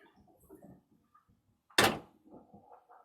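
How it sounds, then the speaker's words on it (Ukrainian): The hood of a KATA KE504 mini tractor shuts with a single sharp, loud slam outdoors, with quiet talk just before and after it. "давайте закриваємо капот"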